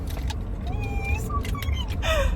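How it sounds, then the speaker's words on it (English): Car interior while driving: a steady low engine and road rumble fills the cabin, with brief tonal squeaks and clicks on top. "I'm driving to Swig right now."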